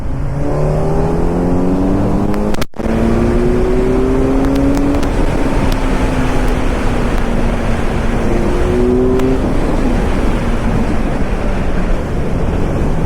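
A 2026 Kawasaki Z900 motorcycle accelerating hard in sports mode on a highway, its engine note rising through several gear shifts over steady loud wind rush, with no talking.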